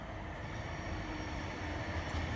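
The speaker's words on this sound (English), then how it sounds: "Oh, here's our train. This is the Charlotte Light Rail." Charlotte Light Rail train pulling in at a station, a steady loud rumble of wheels and motors with faint high squeals from the rails, heard alone without talk.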